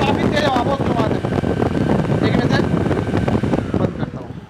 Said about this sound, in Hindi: पीछे मोटर चल भी रहा है और ये आगे हवा फेंक दे रहा है